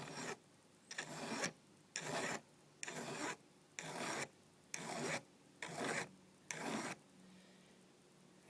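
Hand file working the broken tip of a steel knife blade: eight steady, even rasping strokes about one per second, close and clear with no talk.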